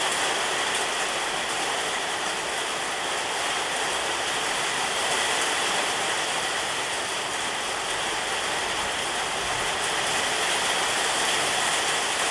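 Engine oil poured into a Ford Fiesta EcoBoost engine, a steady, even, close liquid rush and hiss that runs unbroken from start to finish with no talking.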